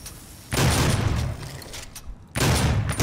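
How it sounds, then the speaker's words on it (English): Two loud, close blasts of the super shotgun in Doom, each a booming report with a tailing rumble, separated by about two seconds. "Fire twice the super shotgun before having to reload."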